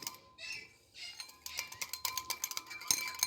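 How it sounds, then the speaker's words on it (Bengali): A spoon clinks and scrapes in a bowl as semolina is stirred into a batter for suji ras bora, quick rhythmic taps growing busier toward the end, close and fairly quiet with no talking. "তো কিছু কিছু করে সুজি দিয়ে আমি মিশিয়ে নেব এর মধ্যে"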